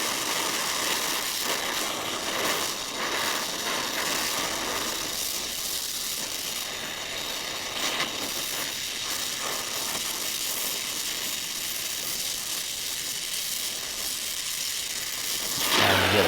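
A brazing torch hisses in a steady, unbroken rush while metal is being brazed, holding an even level throughout with a slight swell near the end and no voices.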